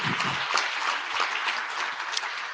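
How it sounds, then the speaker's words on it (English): Audience at an IETF plenary applauds, a soft, continuous wash of many distant hands clapping that holds steady without talk over it. "There's always a lot of clapping in my bit."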